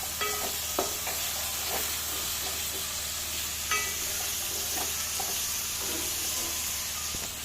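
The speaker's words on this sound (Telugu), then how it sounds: "ఇప్పుడు టమాటా ముక్కలు వేసుకున్నాక అట్లా గంటెతోని కలబెట్టాలి కాసేపు" Tomato pieces are stirred with a ladle in a curry pan for mutton curry, a steady soft sizzle and hiss with occasional clinks and scrapes of the ladle.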